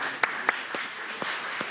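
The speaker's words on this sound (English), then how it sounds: "yeah, we could clap for him." Scattered applause rises at a Seattle City Council meeting, a light continuous patter with a few sharper individual claps standing out.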